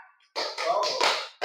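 Hands clapping in a rhythm pattern during a classroom teaching session, several close, loud claps in quick succession followed by another clap at the end.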